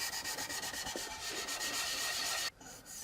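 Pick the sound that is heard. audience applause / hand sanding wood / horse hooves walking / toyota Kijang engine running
hand sanding wood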